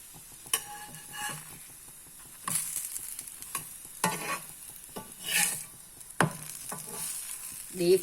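Ghee frying on a hot tawa over a stove, a steady close sizzle with stirring and scraping bursts at intervals, no voices.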